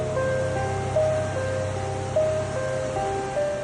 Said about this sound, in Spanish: Este es el caudaloso río de Cañocanoas, en plena serranía de la Macarena Meta.